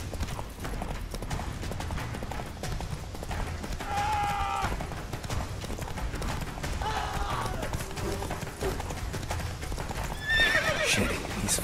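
Roach the horse gallops hard in The Witcher 3 with rapid, continuous clip-clop hoofbeats, and several loud whinnies and neighs ring out over the run.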